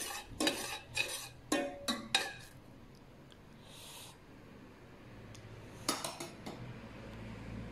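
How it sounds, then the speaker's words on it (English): Corn egg soup being stirred in a pot as it comes to a simmer: a quiet run of scraping, clinking stirs with a utensil against the pot, then a pause, then a second cluster of stirs, with no talking. "Mix it and wait for it to simmer."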